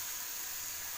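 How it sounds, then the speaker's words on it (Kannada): Tomato and green chili frying in a pan, a faint, steady hiss-like sizzle over one second with no other sounds. "ಟೊಮಾಟೊ ಹಾಗೂ ಹಸಿಕಾಯಿನ ಬಿಸಿ ಮಾಡ್ಕೊಂಡು ಹಸಿ ವಾಸನೆ ಹೋಗೋವರೆಗೂ ಸುಡಬೇಕು"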